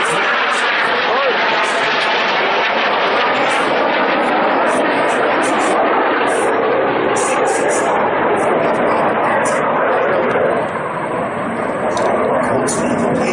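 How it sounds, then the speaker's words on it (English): Aerobatic display jets rolling overhead at an air show at Stewart International Airport, a loud continuous broadband roar that fills the whole stretch, with a commentator's voice over the public address. "the aircraft rolling the right way up"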